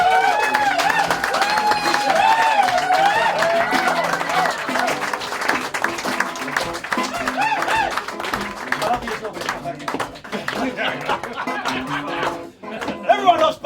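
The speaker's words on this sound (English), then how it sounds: "I would like to take this opportunity to ask for a big round of applause" An audience gives a round of applause that is loud and steady at first, then thins into scattered claps, while speech and music play over it.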